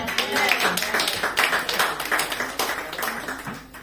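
A church congregation claps and acclaims the Lord during a worship service, with dense, continuous hand-clapping and mingled voices at steady volume throughout.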